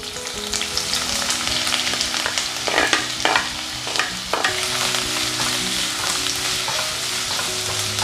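Two medium onions, sliced lengthwise, fry in coconut oil in a pan for chicken curry, giving a loud, steady sizzle with a few stirring scrapes, close up and with no talk.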